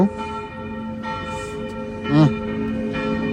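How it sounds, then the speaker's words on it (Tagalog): Church bells ring with sustained metallic tones in the background while a voice briefly speaks over them. "Ang ingay ng kampana, mga kaibigan, sa simbahan,"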